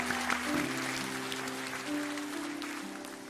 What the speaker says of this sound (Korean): 큰 박수로 우리 다음 세대 한번 격려하기 원합니다.